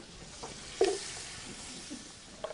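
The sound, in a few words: sauteing celery with onion and garlic on the stove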